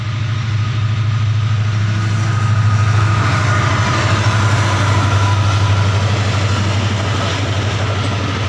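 A train rumbles past in a steady, loud wash of wheel and engine noise with a strong low drone, continuous for several seconds with no voices.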